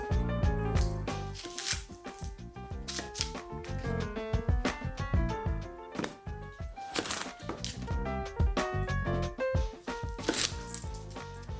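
A knife roughly chops pork skin on a board for stock. The quiet, rapid chops come in uneven bursts, with short pauses between runs.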